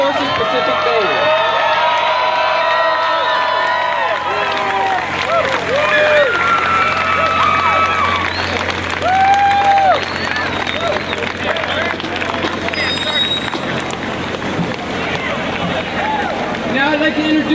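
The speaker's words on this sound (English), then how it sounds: "One more big round of applause for the Marine Forces Pacific Band." Crowd at the 2019 Pearl Harbor Memorial Parade applauding and cheering for the Marine Forces Pacific Band, a dense sustained wash of clapping and shouts with whistles and babble mixed in, steady and loud throughout.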